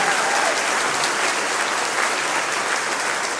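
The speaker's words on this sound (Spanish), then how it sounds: "denle un fuerte aplauso al Rey," Congregation in a church giving a strong round of applause, a thick, even roar of many hands clapping at once that holds steady without a break.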